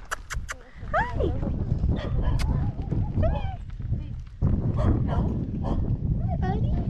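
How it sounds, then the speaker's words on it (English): Small dog giving high yips and whimpering barks in short bursts, close by, mixed with excited people talking and cooing over it. "There's another little dog right here."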